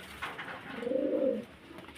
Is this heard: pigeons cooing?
yes